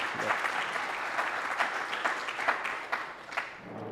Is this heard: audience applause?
yes